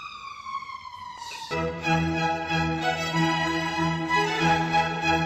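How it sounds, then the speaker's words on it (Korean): An emergency vehicle siren wails with a falling then steady tone, joined by a second, lower horn-like blare partway through, moderately loud and sustained. "사이렌 소리 죄송합니다."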